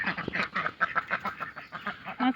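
Ducks on a small farm quack in quick overlapping calls, close and moderately loud, in a brief busy chorus with no talking.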